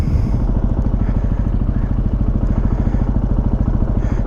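Engine of a 2018 Benelli TNT 135 motorcycle running steadily with a rapid low pulsing throb, loud and close, continuous throughout without speech.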